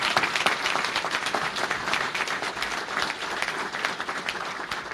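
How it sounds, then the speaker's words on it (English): Audience at a community college budget press conference gives the Panther team a round of applause: a loud, sustained wash of many hands clapping throughout, with no talk over it. "let's give you another round of applause"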